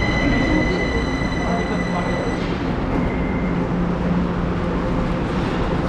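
An MRT metro train in Taiwan rumbles steadily along the track, with a high whine that fades out midway through.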